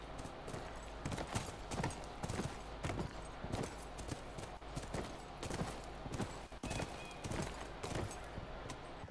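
Horse galloping in The Last of Us, a steady run of close hoofbeats under dense game noise, with a brief whinny-like cry.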